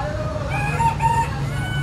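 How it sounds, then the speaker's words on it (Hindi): A rooster crows loudly and close by, one long wavering call that fills the moment, with faint background murmur beneath. "ये देखिए मुर्गों का जोड़ा कितना प्यारा है।"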